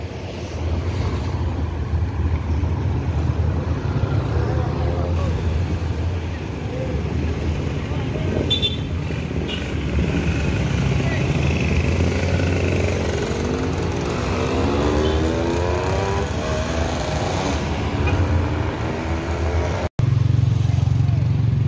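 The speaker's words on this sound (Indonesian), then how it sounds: "Dari arah Jakarta masuk bus NPM dengan kelas flag race." Buses arrive at a bus terminal with their engines running, a steady loud diesel rumble with rising and falling engine tones as they pull in, and someone talks over it.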